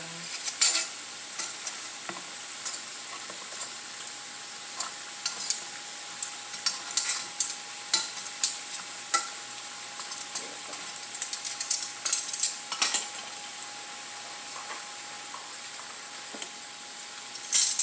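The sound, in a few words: garlic frying in a pan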